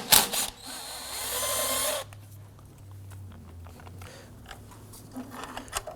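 A power tool or ratchet loosens and removes an 8mm bolt during a brake master cylinder replacement on a 2008–2011 Ford Focus, giving a loud, close two-second burst followed by quieter mechanical clicks and handling noise.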